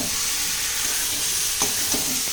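Mutton curry with masala being stirred in a hot pan: steady sizzling frying with scraping spoon strokes, close and loud, with no talk.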